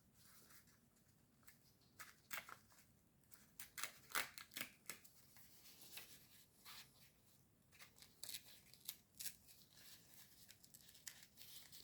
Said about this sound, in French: ça se déchire. Il y a des pointillés.